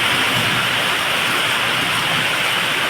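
Heavy monsoon rain pours down in a dense, unbroken hiss. It is loud and steady throughout the short stretch, with no distinct thunderclap and no voices.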